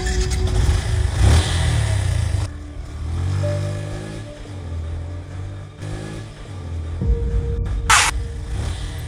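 A motorcycle engine fires up and revs, settles into an idle with some fluctuating throttle, then revs again, close and steady throughout with no talk.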